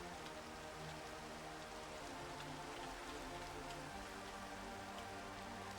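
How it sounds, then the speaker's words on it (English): Steady rain falls in the video game Minecraft, a dense, even hiss of drops pattering on surfaces that holds constant for several seconds with no talk over it. "Minecraft... no. Please stop adding rain."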